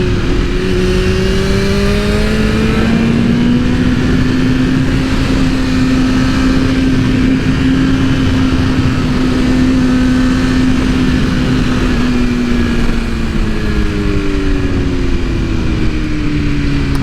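A 2022 BMW S1000RR sport motorcycle with a Stage 2 Brentuning tune, an aftermarket air filter and a changed sprocket roars loudly while being ridden, its engine note rising and falling through gear changes under steady wind rush.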